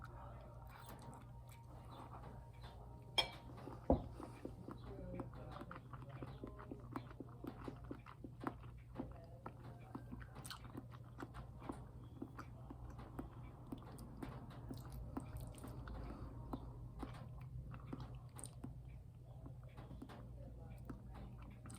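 Someone eating Olive Garden spaghetti, soft close-up chewing and wet mouth sounds with occasional clicks of cutlery, quiet and continuous over a low background hum.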